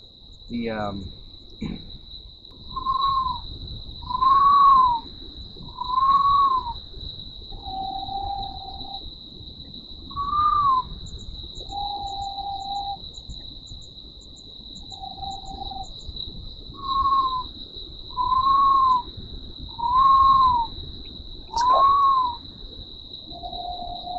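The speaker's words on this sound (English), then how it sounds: "there's something trying to sound like a screech owl" A steady high electronic tone runs throughout while a series of short whistled, warbling calls resembling a screech owl repeats about a dozen times, some rising, some flat, fairly close.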